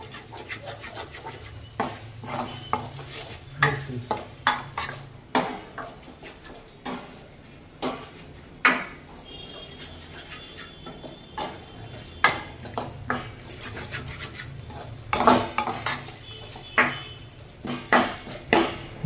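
A spatula scrapes and taps in a pan of simmering tomato gravy with ginger-chili paste, soft irregular knocks and scrapes repeating near and fairly quiet over a faint background hum.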